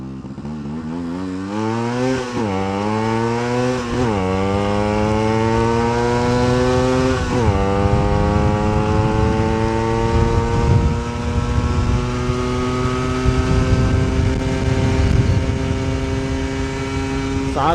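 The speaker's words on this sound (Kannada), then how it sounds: "ನೋಡ್ರಿ ಗಾಯ್ಸ್ ಹೆಂಗೆ ಪಾಪ್ ಆಗುತ್ತೆ ಗಾಡಿ." A Yamaha RX two-stroke motorcycle engine revs up and down repeatedly, its pitch rising and falling in several swells, with crackling pops from the exhaust as it runs close by, loud and without talk.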